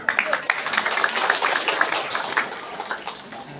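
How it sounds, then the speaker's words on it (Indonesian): An audience claps at a mountaintop gathering of Islamic boarding-school students, giving a dense, continuous patter of many hands that stays fairly even for a few seconds. "tepuk tangan buat beliau"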